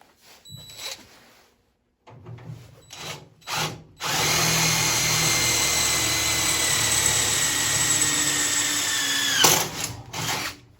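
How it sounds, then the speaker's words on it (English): A power drill bores a hole through a metal part of a wood cookstove under restoration. After a few quiet clicks and handling sounds, the drill starts and whines steadily for about five seconds close by, then stops with some clatter. "I'll drill a hole right there."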